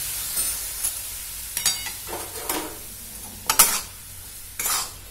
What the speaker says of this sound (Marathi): अर्धी वाटी खोबरं घालून किसलेलं खोबरं घालून घ्यायचं आणि थोडं थोडं दूध टाकून हे हलवून घ्यायचं।